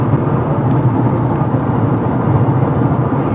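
A 2024 Ford Maverick pickup truck on the road, a steady broadband rumble of engine, tires and wind heard from inside the cab, constant and fairly loud with no talking.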